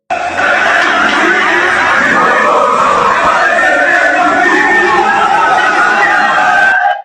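A large crowd gathered in Nigeria, a dense wall of chatter and murmuring voices, loud and continuous throughout.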